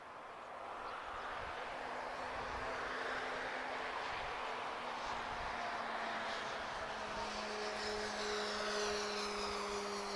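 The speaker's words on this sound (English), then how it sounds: "A lovely touchdown from TAP there." A TAP Air Portugal Airbus A321 arriving from Porto touches down at Lisbon Airport. Its engine roar is heard at a distance, a broad steady rumble that swells and holds with shifting tones as it passes, and no one speaks.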